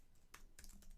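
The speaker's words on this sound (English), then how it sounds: "you simply type in gem install" A few crisp keystrokes on a computer keyboard as a software install command is entered on macOS, quiet and close, with short bursts of clicks separated by brief pauses.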